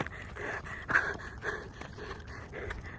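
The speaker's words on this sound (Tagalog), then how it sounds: "Grabe hingal." Heavy panting from a hiker catching their breath after a climb, close and rhythmic, with repeated sharp breaths in and out and no talk.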